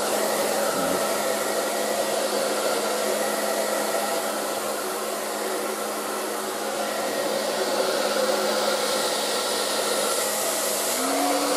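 An ETI Professional Turbodryer 2000 hairdryer roars on high speed and high heat, a loud steady rushing blast that holds constant from start to finish with no talking.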